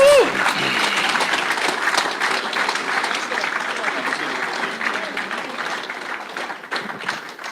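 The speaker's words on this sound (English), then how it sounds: "A round of applause, please, for our next three guests" An audience at a rally forum applauds steadily throughout, a dense wash of clapping that slowly fades toward the end.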